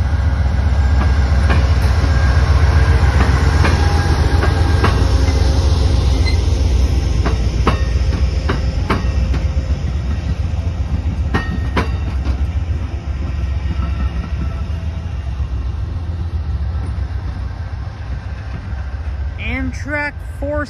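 Amtrak P42DC locomotive 109 leads the southbound 471 Valley Flyer passenger train through Greenfield, Massachusetts. It passes loud and close, a heavy rumble with rhythmic wheel clicks and squeals, then eases off toward the end.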